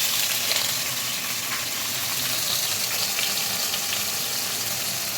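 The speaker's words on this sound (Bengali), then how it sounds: "পনিরগুলো এবার ভাজতে হবে" Paneer pieces fry in hot oil in a pan, giving a loud, continuous sizzle that holds steady throughout without talking.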